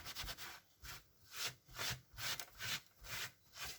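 A cloth rubbed back and forth across an ink-covered stencil to wipe it clean, making rhythmic, close scrubbing strokes at a steady pace of roughly two per second, moderately quiet and with no voice.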